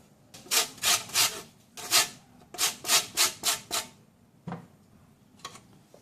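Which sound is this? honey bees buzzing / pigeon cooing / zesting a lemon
zesting a lemon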